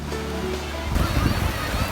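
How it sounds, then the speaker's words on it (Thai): Tham Phra waterfall in Bueng Kan, Thailand, pours with a dense, steady rushing roar that swells louder halfway through, close and constant. "น้ำตกถ้ำพระอันนี้ชั้นที่หนึ่ง"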